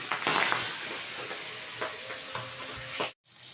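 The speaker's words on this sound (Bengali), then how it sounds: "ট্যাংরা মাছগুলো কিন্তু তেলে দেওয়ার পরে ফোটা শুরু হয়ে গেছে" Tangra fish fry in hot white oil with turmeric for a home-style curry, giving a steady close sizzle with scattered crackles and spatters that cuts off abruptly near the end.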